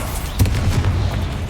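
In the Hogwarts Legacy video game, a Confringo fire blast spell erupts in a sharp, booming burst followed by a rumbling low roar that lingers and slowly fades.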